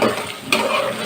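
Potatoes being sautéed and stirred for alur dom, giving a short burst of sizzling with one scraping stir partway through, close up.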